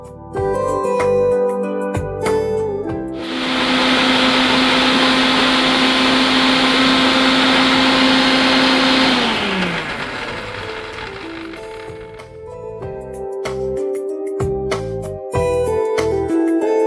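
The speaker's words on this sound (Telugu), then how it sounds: "ఇప్పుడు ఇది మనం మిక్సీ పట్టేసుకున్నాం." A kitchen mixer grinder blends green chilli paste with salt and a little curd, a loud steady whirring drone running for about six seconds before winding down, with kitchen clatter around it.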